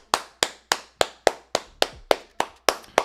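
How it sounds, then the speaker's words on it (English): Steady hand clapping, about ten sharp claps in an even rhythm, close and loud with no voices. "Clap it up."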